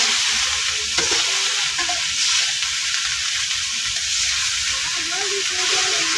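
Bottle gourd with green chilies, turmeric and salt sizzling steadily in a hot pan while being stirred, with a constant frying hiss and occasional scrapes close by.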